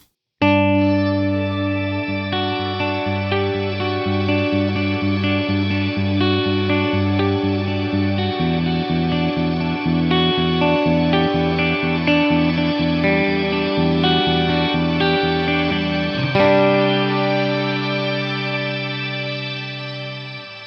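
Electric guitar played through the shimmer reverb of a Line 6 HX One effects pedal, sustained chords blooming into a bright, octave-up wash that rings continuously and loud for the whole stretch, with a chord change near the end.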